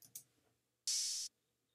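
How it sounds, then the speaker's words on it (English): A single open hi-hat sample from a trap beat made in Ableton, treated with EQ and retro coloring: a short, bright, hissy burst, preceded by a couple of faint ticks. "Open hi-hat."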